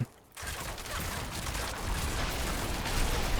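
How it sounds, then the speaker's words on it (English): Rapid bursts of explosions from a Rogue firing rain of arrows in Diablo 4 nightmare dungeons, a dense crackling barrage that starts after a brief quiet moment and holds loud and continuous. "All those explosions, just fun stuff."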